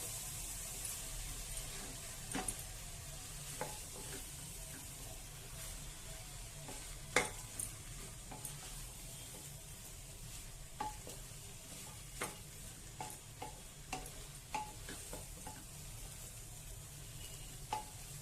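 Rice and sprouted chickpeas sautéed in a pan give a steady, faint sizzle, broken by irregular scraping clicks as the spoon stirs them, with no talking.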